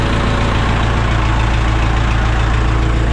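A loader's diesel engine runs steadily near and loud, a constant low rumbling idle with no break while lifting a combine engine out in icy conditions.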